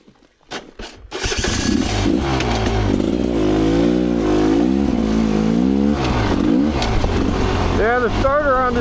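An off-road ORV's engine cranks with a few weak starter turns, then catches and runs loud and close, revving up and down in uneven swells for several seconds.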